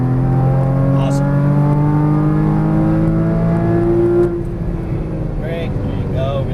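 Porsche Cayman GTS engine driving on a track, a loud steady drone whose pitch climbs gradually then drops off as the revs fall, with faint voices underneath.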